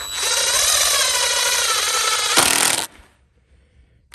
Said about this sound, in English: Drill it down to here and do 2 screws